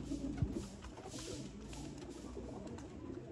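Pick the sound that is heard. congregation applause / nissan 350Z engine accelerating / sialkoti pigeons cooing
sialkoti pigeons cooing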